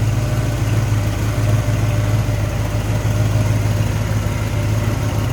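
A 1965 Ford Mustang coupe's V8 engine idles steadily with a low, even rumble, close and loud, running smoothly with no revving.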